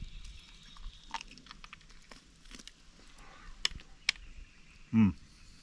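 Someone chewing cooked roadkill squirrel meat: faint, close wet mouth clicks and soft crunches spread across a quiet background, ending with one louder thump.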